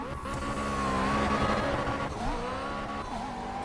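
A McLaren P1 drifts around the Brno circuit in Project Cars, the engine droning steadily under long, wavering tire squeals with a few quick pitch dips as it slides, with no voices over it.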